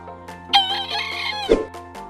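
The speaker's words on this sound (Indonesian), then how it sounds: "Ayam bekisar juga memiliki suara yang halus dan khas" A bekisar rooster, a junglefowl-chicken hybrid, gives one short, smooth crow, close and clear, rising then dropping at the end.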